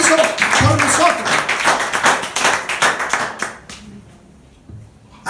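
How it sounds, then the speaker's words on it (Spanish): A church congregation claps in a round of applause during a sermon, rapid irregular hand claps that gradually thin out and fade into near silence. "Denle un aplauso a Jesucristo"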